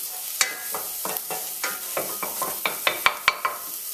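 Pimento peppers cook in a pan over low heat, giving a steady soft sizzle broken by a run of sharp stirring scrapes and clicks that grow louder toward the end, with no talking.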